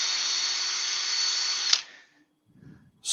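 A power drill with a 3mm bit bores steadily into wood for under two seconds, loud and close, then stops abruptly; brief quiet handling noises follow.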